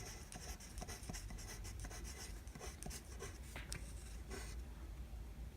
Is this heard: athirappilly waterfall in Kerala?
no